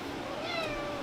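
A cat gives one drawn-out meow with a wavering, gliding pitch, fairly close and clear over a soft background hiss, with no talking.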